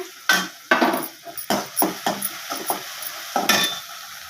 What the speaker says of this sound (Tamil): இஞ்சி பூண்டு பேஸ்ட் நல்லா வதங்கிடுச்சு